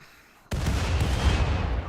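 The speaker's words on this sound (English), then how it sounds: "Fire, I think, is what we are going to do. Mortars, engage." Mortar volley firing in RimWorld (Anomaly): after half a second of quiet, a sudden loud burst erupts into a sustained, rumbling barrage of booms that carries on to the end.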